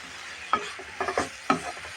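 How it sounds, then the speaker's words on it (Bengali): Prawns and cabbage frying in a pan while being stirred, with quick scraping and knocking strokes of a spatula over a low sizzle, about three distinct stirs in a short burst. "এখন সুন্দর করে নাড়াচাড়া করে নেব"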